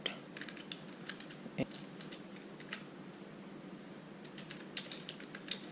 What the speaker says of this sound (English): Let me type in the program and execute.